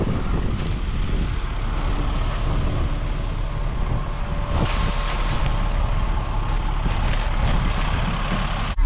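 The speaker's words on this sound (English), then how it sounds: "Here's the supper bus." A supper bus pulls up at a corn harvest field where two 12-row corn heads run on combines, a steady loud engine rumble and vehicle noise filling the whole stretch with no talk.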